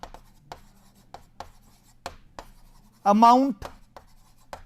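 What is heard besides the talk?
writing on a board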